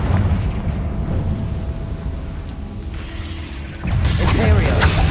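Confringo explosion spell cast in Hogwarts Legacy on PS5, a heavy rumbling blast with a sharper burst near the end over constant game ambience, loud and dense, with a brief spoken voice in the mix.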